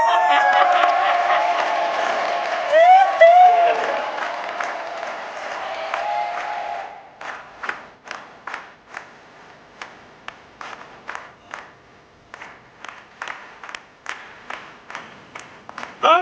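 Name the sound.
audience applause and cheering for performer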